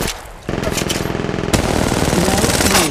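Rapid automatic gunfire in the battle-royale shooter Apex Legends, a loud close burst of evenly spaced shots that keeps rattling for several seconds with barely a pause.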